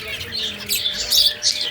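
Pet zebra finches kept for breeding give short, high chirps and squeaky calls in quick bursts. The birds sound close and fairly clear over a faint background hum.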